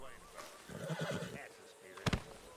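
A horse in Red Dead Redemption 2 whinnies close by, a short, sharp neigh near the end that follows some muffled shuffling and hoof movement. Someone talks softly underneath.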